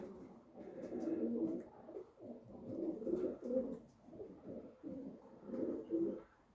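A racing pigeon coos softly and close by, repeating rolling, throaty coo phrases in an uneven rhythm against a quiet background, with no talking.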